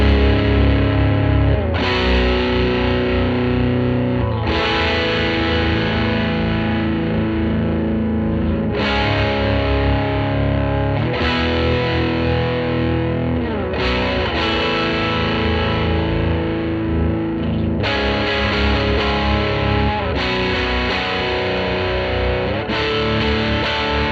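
Electric guitar played through a Plumes overdrive pedal, loud distorted chords ringing continuously with rhythmic chord changes every few seconds and no talking.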